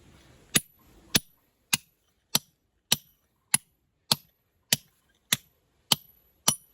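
A hammer strikes a hand drill into granite rock in about a dozen sharp, evenly spaced metallic blows, roughly one every half second. Each hit rings close and crisp, with near silence between strikes.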